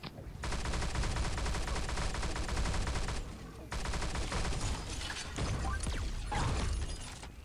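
Gunfire in Pixel Gun 3D, loud continuous rapid automatic shooting in long sustained bursts with a short break, then scattered shots and impacts toward the end.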